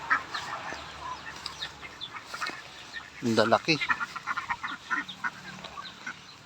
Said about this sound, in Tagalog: Andito na uli yung mga patot itik,